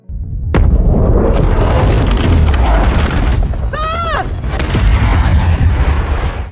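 A huge explosion in a war film soundtrack: a sudden loud boom, then a long, rumbling blast with crackling debris and scattered bursts, with a brief voice partway through.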